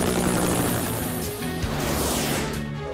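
Cartoon helicopter flying in a children's rescue cartoon, a dense, steady rotor-and-engine roar holding loud throughout with a brief thump midway.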